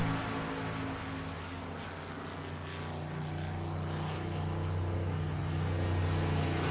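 Race car engine in a Daytona sim racing game droning steadily through the pit lane on a drive-through penalty, a continuous low hum with strong engine harmonics, moderately loud and unbroken, with no talk over it.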